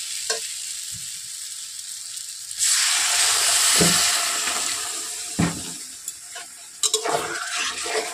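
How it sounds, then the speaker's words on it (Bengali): Water poured into a hot pan of mushroom and potato curry with Kashmiri chilli sets off a sudden loud sizzle that swells, then slowly fades into softer bubbling with a few stirring knocks. "এখন আমি তরকারিটার জন্য পরিমাণ মতো জল দিয়ে দেব"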